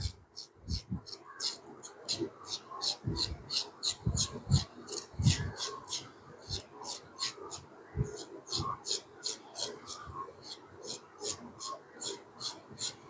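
Carrots being scraped clean of their skin in a kitchen while preparing a carrot juice: steady, rapid rasping strokes in a regular rhythm, close and fairly quiet, with some duller knocks in between.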